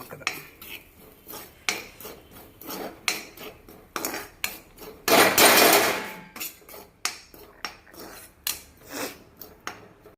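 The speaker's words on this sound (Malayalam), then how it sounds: "ചിരണ്ടിയ തേങ്ങ ഇട്ട് കൊടുക്കും വറുത്തെടുക്കണം" Grated coconut is roasted in a pan, heard as a series of sharp metallic scrapes and clatters of a spatula against the pan, irregular and close, with one longer rasping stir in the middle.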